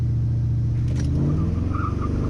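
A C4 Corvette with an LS V8 swap holding the brake and launching hard, a loud close engine rumble whose pitch climbs steadily as it pulls away.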